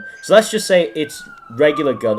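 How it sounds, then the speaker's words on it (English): Police sirens wail as a steady high tone sliding slowly lower, in the background under someone speaking. "Oh, sorry about the sirens."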